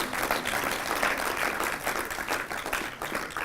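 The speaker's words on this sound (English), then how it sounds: "you can clap your hands" Hands clapping from an audience at an industrial engineering awards event, a steady, dense applause that fills the room at moderate loudness with no break.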